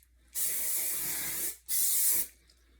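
Hairspray hisses onto hair in two bursts, a long spray of about a second followed by a shorter one, close and steady.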